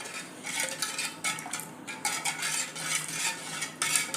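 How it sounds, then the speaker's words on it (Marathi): A metal spoon stirs spices like black salt and salt into pani puri water, clinking and scraping against the bowl in quick repeated strokes, close up with no talking. "अर्धा चमचा काळं मीठ घालायचं आणि आपलं नेहमीचं जे मीठ आहे ते एक अर्धा चमचा घालायचा आणि हे सगळं मिक्स करून घ्यायचं."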